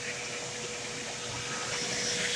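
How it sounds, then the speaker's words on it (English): A Bissell or Dirt Devil vacuum cleaner runs steadily with a loud, airy whine and rushing suction, no breaks and no voices. "act as a air floor vacuum now and just suck up whatever's in here"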